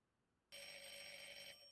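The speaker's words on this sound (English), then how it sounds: "his phone rang" A telephone starts ringing abruptly out of near silence, one loud electronic ring tone held for about a second and then fading slightly, with no talking.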